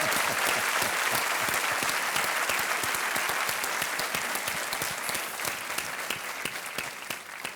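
Studio audience at the quiz show Kaun Banega Crorepati clapping, a dense sustained roar of many hands that continues evenly throughout and eases slightly near the end, no one speaking.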